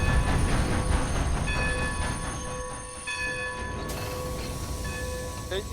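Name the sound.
ghost train from video game Red Dead Redemption 2 Online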